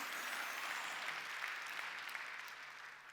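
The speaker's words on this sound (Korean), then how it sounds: "하나님이 우리를 만든 걸 믿으면 박수." A crowd claps steadily for a few seconds, a dense, even wash of applause.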